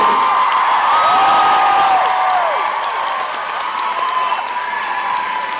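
Concert crowd at a show in Richmond cheering and applauding the drummer. Loud, sustained clapping mixes with whoops and high whistles that rise and fall across the whole stretch.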